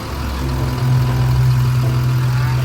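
A Komatsu WA320-8 wheel loader diesel engine idles with a steady low rumble and hum, close by and continuous.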